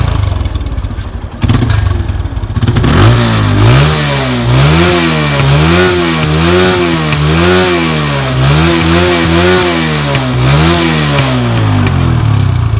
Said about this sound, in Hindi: बाकी एग्जॉस्ट एक बार सुन लो